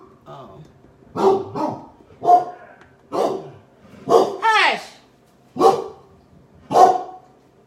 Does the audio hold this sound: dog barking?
yes